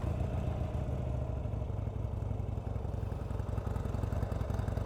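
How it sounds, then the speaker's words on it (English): A 2020 Harley-Davidson Sportster Roadster XL1200CX with stock pipes idles nearby in a steady, throaty low rumble with a fast, even pulsing beat and no talking. "So let's turn this bike on."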